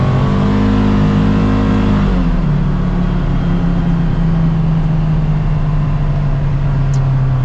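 Engine of a new Polaris Xpedition side-by-side revving hard in a loud, close, steady drone, its pitch dropping and settling into a sustained lower roar after about two seconds, with no talk.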